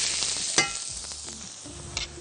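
Minced onion stirred and sizzling in a pan in a restaurant kitchen while chicken pasta is cooked, a close, continuous hiss broken by a few scraping stirs and clacks.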